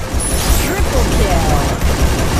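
Gunfire rattles through a shooter game match where a sniper is in play, a dense, loud barrage of shots running throughout while players talk excitedly over it.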